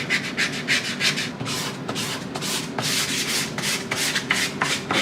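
Wood being sanded by hand in a woodworking shop, rapid back-and-forth rasping strokes in an uneven rhythm, close and fairly loud, continuing steadily without talk.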